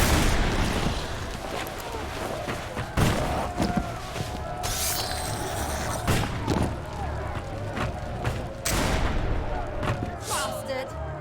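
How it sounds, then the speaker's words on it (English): Explosions and booming blasts from the video game Risen 3: Titan Lords form a dense, loud, continuous barrage of crashing bursts and rumbling debris over about eleven seconds. "Second explosion."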